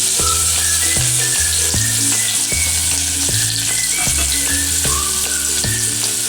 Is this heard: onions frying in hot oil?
yes